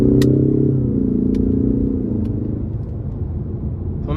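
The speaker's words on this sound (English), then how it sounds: "We're gonna give it some throttle coming out of this corner here." A 2023 Ford Mustang EcoBoost Premium with the 2.3-litre turbo four pulls out of a corner under throttle, a close, steady exhaust growl and engine drone that rises, then gradually eases off and settles lower.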